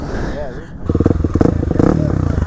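A Kawasaki KLX300 supermoto motorcycle fitted with a Big Gun exhaust revs in a choppy, pulsing burst close by, loud and rising after a brief lull, with voices talking over it.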